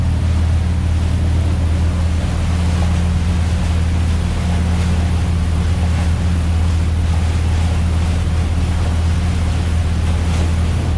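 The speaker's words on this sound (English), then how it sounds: "Alright, we are wide open throttle, 2350 RPMs." Motor yacht engines at wide open throttle, 2350 RPM: steady, loud roar with a deep low hum and broadband rush of water, constant throughout with no voices.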